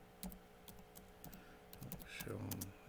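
Computer keyboard being typed on while writing program code, a quick run of light clicking keystrokes with a few louder taps, close up and with no talk over it.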